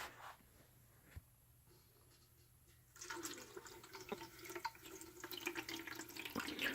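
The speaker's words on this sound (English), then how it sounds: "all I need to do is add the vinegar and give it a few minutes and it will get quite lively" Vinegar pours over a rock in a container for etching, a soft splashing trickle that starts after a quiet stretch and continues with bubbly fizzing detail, faint and close.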